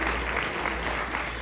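Audience applause at a Nepali community summit in Akron, Ohio, a broad continuous clatter of clapping from a crowd, fairly loud and steady under a low background hum.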